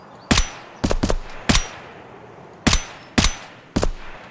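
Gunfire in the shooter Escape from Tarkov: six sharp shots, a lone crack, a quick double, then spaced single bursts, loud and close with short decays, no talk over them.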